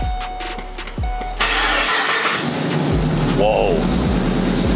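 A car with a freshly installed exhaust cranks and fires up, then settles into a loud, throaty idle with rhythmic pulses. A person reacts briefly over the engine.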